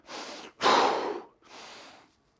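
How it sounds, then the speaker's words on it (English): Heavy breathing after a set of straight-leg raises in a kettlebell home workout: three loud, close, rasping exhales and gasps in quick succession, the middle one strongest, with no talk. "let's get that breathing under control"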